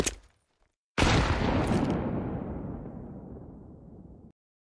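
A video game grenade detonates with a sudden loud blast, and the rumbling, crackling debris decays over about three seconds after a short click before it. No one speaks.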